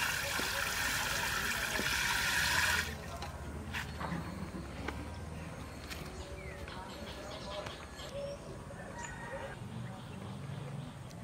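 Rice being rinsed in water for a paneer biryani: a loud pouring, swishing rush for the first few seconds, then softer trickling and sloshing with scattered light knocks, and faint voices in the background.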